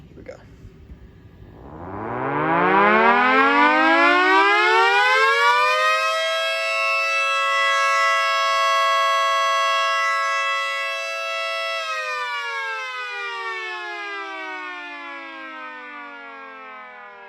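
A Mini 2T22 siren, driven by a fan-type motor, spins up from a low growl to a loud, steady wailing tone, holds it for several seconds, then winds down in pitch, close and alone.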